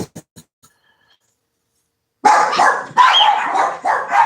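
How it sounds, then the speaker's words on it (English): A few faint clicks, a short silence, then a dog barks loudly and repeatedly nearby in sharp bursts with no one speaking. "Now the dogs are barking."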